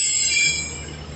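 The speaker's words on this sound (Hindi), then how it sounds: "रोड़ी जंक्शन पर रावलपिंडी से कोटा के दरमियान चलने वाली जाफर एक्सप्रेस।" The Jaffar Express pulls through Rohri Junction with loud, sustained high-pitched wheel squeal over a rumbling rail bed, easing off slightly near the end.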